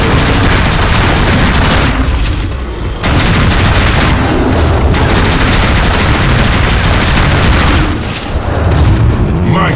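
Dense, loud bursts of rapid gunfire from the video game NecroVision, with booming shots and explosions packed almost continuously, plus a brief lull near the three-second mark.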